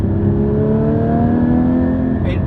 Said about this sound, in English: This generation of flat 6 that Porsche was developing is, man, it's like a symphony.